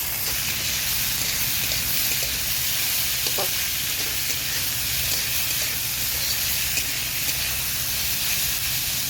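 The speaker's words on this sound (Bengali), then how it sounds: "পেঁয়াজটা একটু ভাজা ভাজা হয়ে এসেছে, এবার এর মধ্যে দিয়ে দেবো কেটে রাখা আলুগুলো" Continuous sizzling of potatoes frying with onions in a pan, steady and close, with occasional faint clinks over the hiss.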